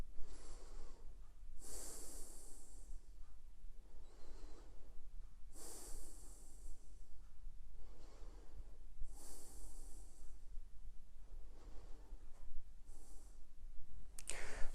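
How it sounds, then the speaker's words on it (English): Slow, steady breathing while seated tall holding a posterior pelvic tilt stretch, with several drawn-out breath cycles, each inhale and exhale clearly audible and close, over a low steady background hum. "Take 5 breaths through here."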